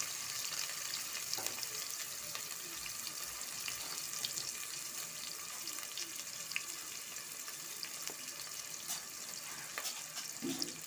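Chopped onions frying in a generous amount of hot oil in a home kitchen pot, a steady faint sizzle and crackle with occasional small pops throughout.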